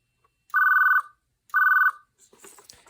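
A 1980s AT&T 2500DMGJ desk phone, lying face down on its low setting, rings with two clear electronic trill bursts about a second apart. Faint rustling follows the second ring.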